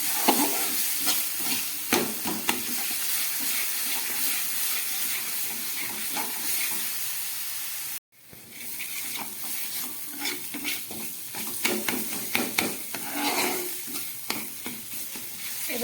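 Masala for a bhola fish and coriander dish is stir-fried in a pan over low gas, a steady sizzle and hiss with scraping spatula strokes, briefly cut off midway before resuming.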